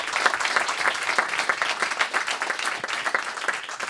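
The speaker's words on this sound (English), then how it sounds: "I'd just like to please give a round of applause to our speakers, Patrick McCorry and Daniel Gasteiger." A meetup audience in London applauds its speakers with steady, dense clapping that fills the room for the full few seconds.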